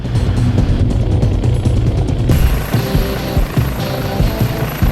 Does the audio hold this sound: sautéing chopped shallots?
no